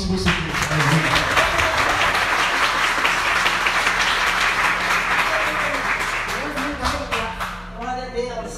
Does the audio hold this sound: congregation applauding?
yes